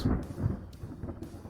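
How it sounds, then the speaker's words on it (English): Thunder in the naval strategy video game Ultimate Admiral Dreadnoughts, a short rolling rumble with a couple of soft low swells. "Thunder."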